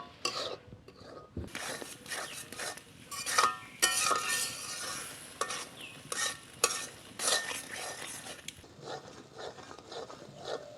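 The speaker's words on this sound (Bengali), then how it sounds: "ঝিঙ্গেগুলো একটু ভালো করে কষিয়ে নিব" Ridge gourd being sautéed and stirred in a pan, a light sizzle broken by repeated scraping and clattering strokes of a spatula against the metal, close and fairly loud, with no talking.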